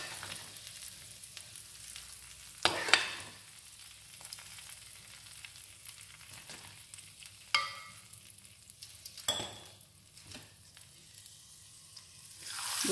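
Hot oil sizzling steadily close up as a spice tempering is poured over moong dal, with a few sharp crackles and pops standing out over the continuous frying hiss.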